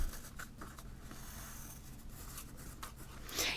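White charcoal pencil drawing on paper, a soft close scratching and rubbing made of short irregular strokes, faint and without speech.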